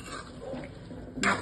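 A spoon stirs green chillies into chicken gravy with fresh cream in a pan, making soft wet shuffling that ends in a brief, louder metallic scrape near the end.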